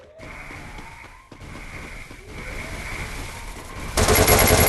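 Bursts of gunfire from a PUBG or Free Fire match, with a sharp, loud crackle of shots at the end over a steady game background.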